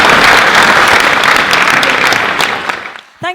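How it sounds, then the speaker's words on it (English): Loud audience applause, a dense burst of clapping that fades out near the end, followed by a brief sound at the very close. "A warm round of applause for"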